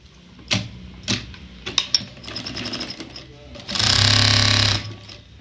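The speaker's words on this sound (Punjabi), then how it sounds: "ਹੁਣ ਅਸੀਂ ਇੱਥੋਂ ਸਿਲਾਈ ਲਗਾਵਾਂਗੇ" A household sewing machine stitches the lining seam of palazzo pants. Several sharp clicks and short mechanical runs lead into a loud, steady burst of stitching about a second long, close up, with some talk around it.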